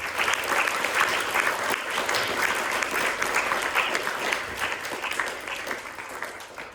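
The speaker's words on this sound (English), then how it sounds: "Let's give the spokespeople a big warm round of applause." Warm applause from an audience at a youth science talk on artificial intelligence, a full steady clapping crowd lasting several seconds and easing slightly toward the end.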